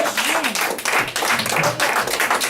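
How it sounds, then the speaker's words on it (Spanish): A church congregation claps steadily and loudly throughout, sustained applause filling the space with dense, continuous hand claps. "Y hay un fuerte aplauso a Dios."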